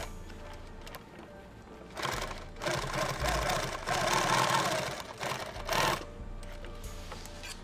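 A sewing machine stitching lid material for a 2-quart lid build, running in several bursts of rapid mechanical chatter of varying length, with quieter pauses between runs.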